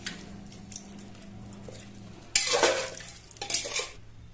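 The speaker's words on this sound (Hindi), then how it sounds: "अब इसको मिक्स कर लेंगे अच्छे से।" Bengali mutton curry being mixed in a pot with a spoon, scraping and clattering against the metal in two bursts of busy stirring after a quiet stretch, close and fairly loud.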